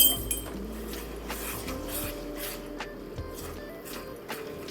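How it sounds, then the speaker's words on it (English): Spiced onion and garlic mixture stirred in a pot over heat for a bean stew, with steady close scraping and soft clinks of a utensil against the pot over a low sizzle. "And now we're just stirring over heat to incorporate all that lovely spiced onion and garlic mixture"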